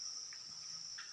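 Crickets in a cricket-farming warehouse in Purworejo keep up a continuous high, faint chirring drone, with a few brief extra chirps rising above it in an otherwise quiet room.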